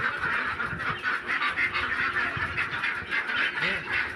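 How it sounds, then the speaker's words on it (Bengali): Ducks and hens are being fed, and the ducks honk and quack steadily and loudly nearby, with overlapping calls coming in quick succession. "এই হাঁস মুরগি খেতে দিতে এসেছি ওপরে।"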